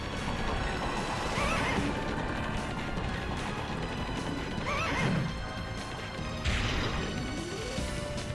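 Horse whinnying and hoofbeats in the PS1 video game The Legend of Dragoon, several loud neighs over a dense clattering, crashing game soundtrack.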